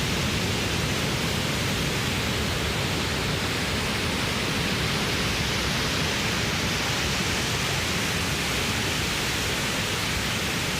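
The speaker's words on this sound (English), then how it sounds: "I literally could sit here like all day, all night, and just listen to that white noise." Constant, even hiss of broadband noise, unchanging and steady from start to finish with no other sounds.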